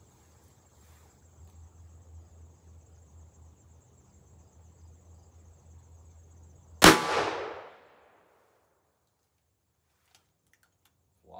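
A single sharp, loud revolver shot from a 5-inch Ruger GP100 firing .38 Special Hornady 140-grain XTP rounds, cracking out of a quiet outdoor hum with a short fading ring afterward.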